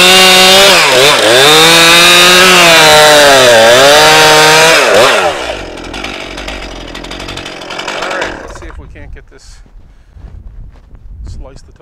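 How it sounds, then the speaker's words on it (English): Chainsaw mill slicing white pine logs into boards, a loud close snarling engine that dips and rises in pitch for about five seconds, then drops to a low idle with rustling and footsteps. "Just got to make a bunch of racket with the sawmill anyway."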